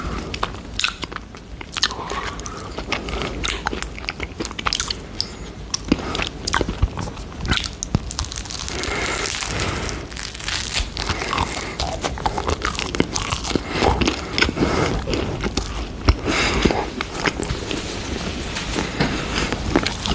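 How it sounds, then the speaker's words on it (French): Crunchy biting and chewing mouth sounds recorded up close for ASMR, with dense, uneven crackles and crunches continuing throughout at a steady loudness, without any talking. "C'est un bruit de bouche, c'est très particulier."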